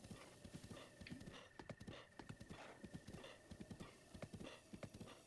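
A horse gallops in The Legend of Zelda: Breath of the Wild, its hooves giving a steady, rapid clip-clop rhythm that stays fairly quiet but clear throughout.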